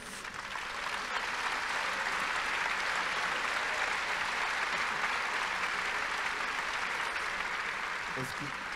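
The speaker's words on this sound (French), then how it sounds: "Oui, vous pouvez les applaudir." A large audience applauds steadily at a talk about rethinking school, the clapping dense and sustained for nearly the whole stretch.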